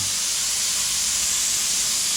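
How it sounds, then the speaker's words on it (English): A spray gun lays paint onto a hot rod's car body, giving a continuous loud airy hiss that stays steady and close throughout with no voices. "You kind of watch behind the gun as you're spraying."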